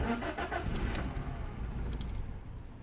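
A Toyota Yaris with a 1.0 petrol engine cranks and briefly catches, then dies almost at once, leaving a quieter idle-free rumble; a bird coos faintly in the background.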